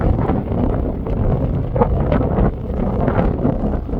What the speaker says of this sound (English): Sorry, it's a little windy right now.